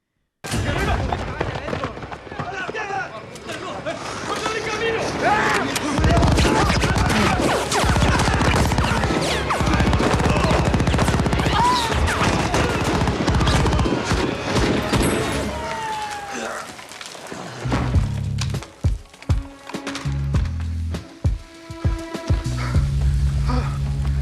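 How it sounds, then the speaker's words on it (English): A Fast and Furious 9 scene of a man being shot at by six people: loud, dense bursts of rapid gunfire and impacts run continuously, then break into scattered louder shots and crashes, mixed with movie dialogue. "Let's pull up this clip of Tyrese being shot at by 6 different people in Fast and Furious 9"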